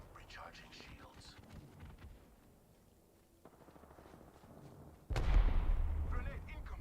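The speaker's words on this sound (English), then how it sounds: "They're firing on me." Gunfire in the Apex Legends video game: faint distant shots and rumbling under quiet game sound and voices, then a sudden loud burst of heavy fire near the end.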